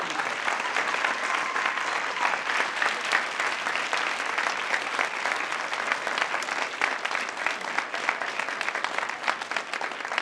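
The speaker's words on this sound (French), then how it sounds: "je vais vous demander un tonnerre d'applaudissements pour lui" An audience at the Fespco 2019 festival gives sustained applause in tribute to a late series creator, a dense, even wash of clapping from many hands that continues for about ten seconds at moderate distance.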